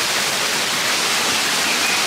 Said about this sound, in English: The rain picked up again, so I'm hiding under some trees.